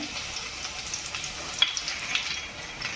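Cumin seeds and garlic sizzling in hot oil in a cooking pot, a soft, steady crackle with a few brief pops, close by and fairly quiet.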